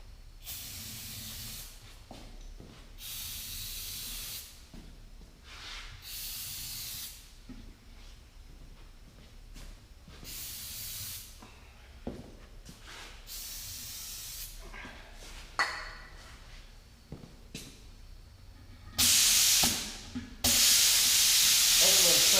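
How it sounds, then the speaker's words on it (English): An air compressor runs during a tractor tire and wheel job on a Ford 5610, giving a steady hissing hum with short breaks, then a much louder burst of rushing air near the end. "I'll let the air compressor build up."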